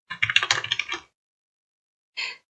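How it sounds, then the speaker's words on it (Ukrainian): Typing on a computer keyboard while entering text in Google Docs: a quick run of close, crisp keystrokes lasting about a second, a pause of silence, then one more short tap. "поставила Enter і пишу якусь професію"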